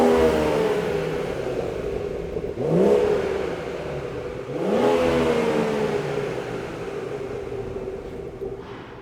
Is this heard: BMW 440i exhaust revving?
yes